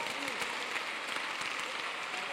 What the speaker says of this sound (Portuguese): Você pode aplaudir a presença do Espírito Santo em seu lugar.